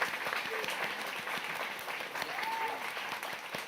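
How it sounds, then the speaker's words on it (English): Audience at the Australian Photography Awards 2022 ceremony giving a final round of applause for the winners, a steady wash of clapping from a sizeable crowd heard at moderate distance. "Let's give one last round of applause to all the amazing winners for today."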